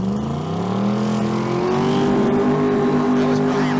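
A 2015 Camaro street car launches down a drag strip, its engine roaring in a loud, sustained rising tone that builds steadily and holds strong to the end.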